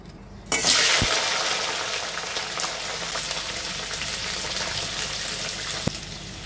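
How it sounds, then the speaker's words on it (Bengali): Crabs hit hot mustard oil in a wok, setting off a sudden loud sizzle that stays strong and steady, with a couple of sharp utensil knocks. "কাঁকড়াগুলোকে হালকা ভেজে নেব"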